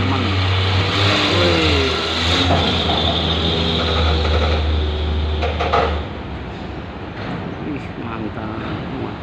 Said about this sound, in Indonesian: ini di belakangnya ada tronton nih, truk tua tapi tenaganya luar biasa teman-teman